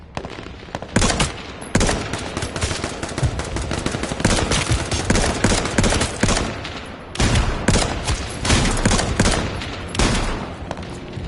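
Dense gunfire in a PS4 first-person shooter, loud continuous volleys of rapid shots with short gaps, close and dominant throughout with no talk heard.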